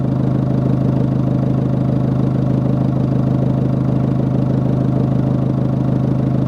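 A car engine idles during a turbo airflow test, giving a loud, steady, close mechanical drone with a fast even pulse that holds unchanged from start to finish, and no voice over it.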